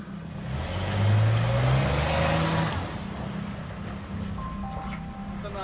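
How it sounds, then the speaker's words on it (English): A big truck's engine strains up a steep, icy, snow-covered driveway after heavy snowfall, rising to a loud revving swell and then easing back to a lower rumble, with voices faintly in the background. "A big truck struggled to make it up a steep, ice-covered driveway after a heavy snowfall"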